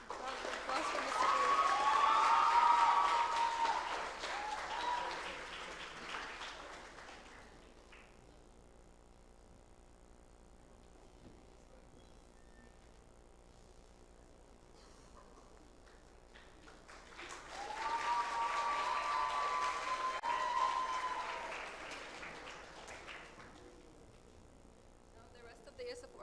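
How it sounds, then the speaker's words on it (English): A conference audience gives two rounds of applause, each swelling loud for several seconds and then fading, with a quieter stretch of room tone between them. "Can you, everyone, please round of applause for Mr."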